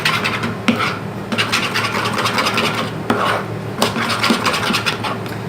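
Shaving foam and Fevicol glue are stirred together for cloud slime, producing close, loud rasping scrapes in repeated strokes with brief pauses between them.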